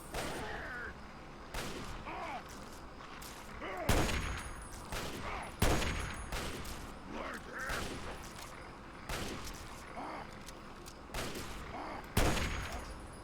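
Repeated sharp sniper rifle shots in Fallout 3, cracking out at irregular intervals of a second or two amid a busy fight, some louder and closer than others, with faint talk underneath.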